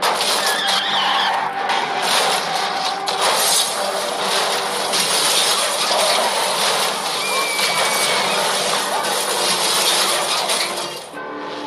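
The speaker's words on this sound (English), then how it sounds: "The car twists, turns, and flips an incredible 10 times back across the track." A race car crashes on a track, skidding and flipping about ten times before landing upside down. A loud, continuous roar of scraping and skidding with clinking debris runs for over ten seconds, then cuts off sharply.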